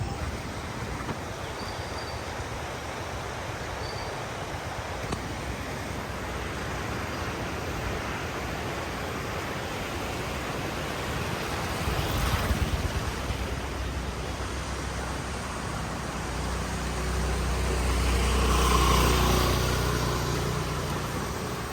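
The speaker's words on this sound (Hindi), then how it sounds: "आप आवाज़ सुन पा रहे होंगे माँ गंगा." The Ganges River rushing at Janki Setu in Rishikesh, a steady broadband roar of fast water that swells louder toward the end, with no talk.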